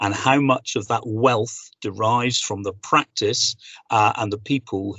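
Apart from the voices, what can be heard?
No distinct noise like a dog, phone or traffic.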